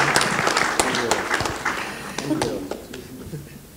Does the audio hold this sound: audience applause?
yes